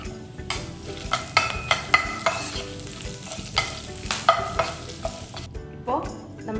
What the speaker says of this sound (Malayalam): ഇപ്പോൾ നമ്മളുടെ മുളകും കറിവേപ്പില എല്ലാം നല്ലപോലെ വറന്ന് വന്നിട്ടുണ്ട്.